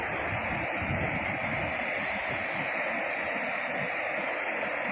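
A temple waterfall pours in a steady, dense roar of rushing water that stays loud and unbroken from start to finish, with no voices.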